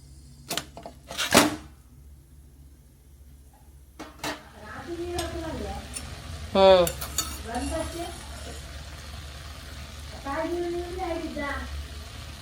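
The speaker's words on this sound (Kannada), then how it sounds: "ಈಗ ಕುಂಬಳಕಾಯಿಗೆ ತುಪ್ಪ ಹಾಕ್ಕೊಂಡು ಹುರ್ಕೊಳ್ತಾ ಇದ್ದೀನಿ." Squeezed pumpkin fries in ghee while a utensil stirs and scrapes it around the pan, with a soft sizzle under the clinks and scrapes, and someone talking between the strokes.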